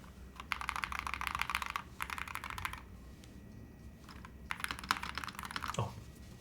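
Keys clacking on a Holy60 mechanical keyboard fitted with foam, quick bursts of typing in two groups with a pause between, and a dull spacebar thud near the end, fairly quiet and close.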